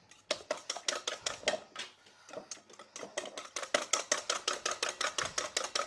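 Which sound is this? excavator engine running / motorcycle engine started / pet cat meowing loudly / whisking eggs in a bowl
whisking eggs in a bowl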